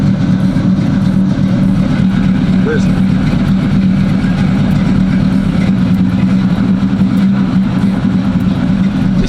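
A Box Chevy engine with a choppy cam idles loudly and steadily, its deep, lumpy exhaust rumble continuous throughout, with someone speaking briefly over it.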